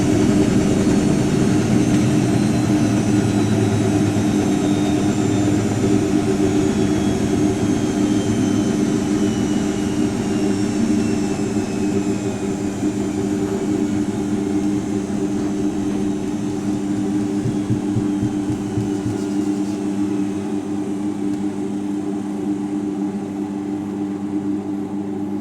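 A Zanussi Jetsystem Excel 1250 top-loading washing machine, model TJS1397W, running with a loud, steady droning hum and rumbling vibration that holds for the whole stretch and eases slightly near the end.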